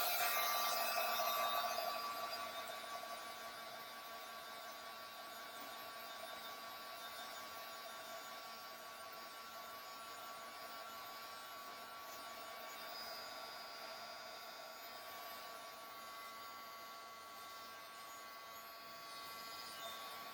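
A heat tool blows a steady, even whir over a mixed media Christmas altered frame as it dries, slightly louder for the first two seconds, then holding constant with no talk.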